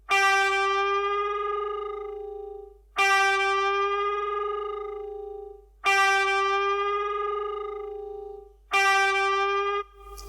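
Electric guitar played through a C-sound digital emulation of a Tube Screamer overdrive pedal: four sustained, harmonically rich overdriven notes or chords, each struck and left to ring for about three seconds, loud and alone.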